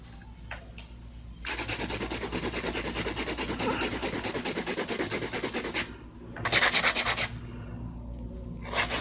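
Acrylic nails on chisel and C-curve tips are hand-filed up close, a steady run of quick rasping strokes with a brief pause before the scraping resumes louder.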